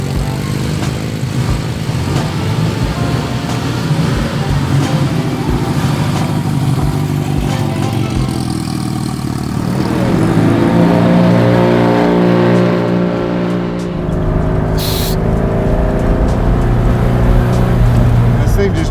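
A custom, turbocharged 1967 Volkswagen Beetle rag top, chopped and lowered, drives along with a steady, buzzing engine drone that swells louder midway. The engine runs continuously and close throughout.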